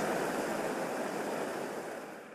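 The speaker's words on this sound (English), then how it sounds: "the banks were breached and water began to cascade into St Asaph" Floodwater from the breached River Elwy pouring into St Asaph, heard as a loud, continuous broadband roar of rushing water that stays steady and eases slightly at the end.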